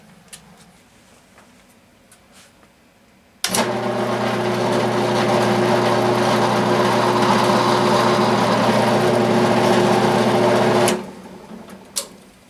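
A power drill boring holes into a wooden blank for a hollow form, starting abruptly after quiet, running at a loud steady whine for about seven seconds, then stopping, with a couple of faint clicks before and after.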